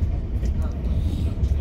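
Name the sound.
train travelling on the journey home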